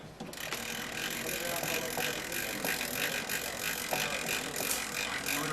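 A spring motor on an Amberola 30 phonograph is wound by hand at a museum, producing a steady run of fast ratcheting clicks over a faint background hiss for around five seconds.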